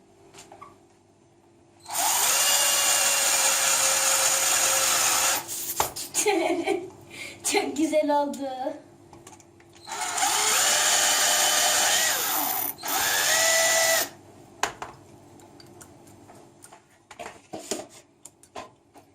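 A cordless drill bores into a box in two long, loud whining bursts with a shorter run near the end, broken by brief clatters and pauses; speech occurs in the clip.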